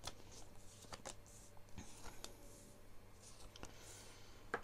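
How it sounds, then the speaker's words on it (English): Tarot cards being shuffled by hand, a soft close riffling with quick clicks and slaps, quiet and steady with no talking. "I'll just shuffle the cards now for Scorpio."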